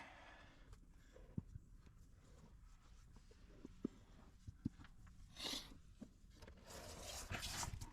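A dog moves about close by outdoors in a nature preserve, giving faint, scattered clicks and soft whimper-like noises over a quiet, steady background.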